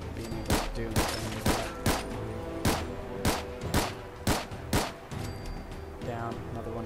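Gunfire in Fallout 4 rings out as a series of sharp, loud shots, about a dozen evenly spaced cracks fired in quick succession over a steady background.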